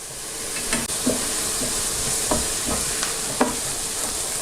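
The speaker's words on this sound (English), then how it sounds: "The heat is quite high, so I keep stirring constantly to prevent the onion from burning." Onion with smoked hot paprika sautéing over high heat in a pan, a steady sizzling hiss broken by repeated soft scrapes and knocks of constant stirring.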